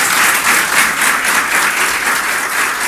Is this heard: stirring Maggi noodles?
no